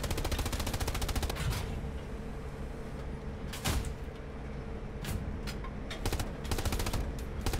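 Sustained automatic gunfire in the Hell Let Loose battle game rattles in dense rapid bursts with a few sharper heavy shots, loud and continuous across the whole stretch with no talking.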